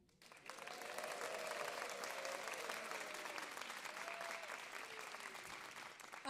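A lively audience at a WoodSongs livestream concert bursts into sustained applause with scattered cheers and whoops, rising quickly after a brief quiet start and holding steady, full and close, until the end.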